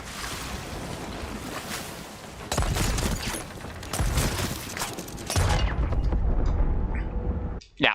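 Plunder bombs burst repeatedly in Sea of Thieves, loud booming blasts layered over wind and crashing ocean waves, with a heavy surge around the middle and a final sharp hit at the end.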